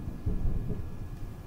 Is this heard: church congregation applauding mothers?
no